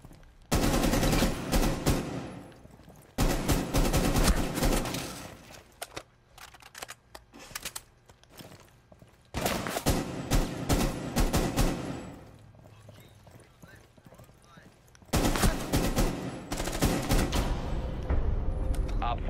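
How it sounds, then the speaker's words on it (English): Semi-automatic gunfire in Rainbow Six Siege, loud close bursts of rapid shots in several long volleys separated by brief quieter gaps, with faint voices underneath. "I was shooting semi-auto"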